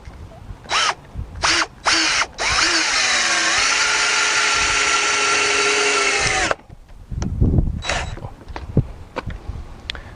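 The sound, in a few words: driving a 3-inch screw into wood with a power drill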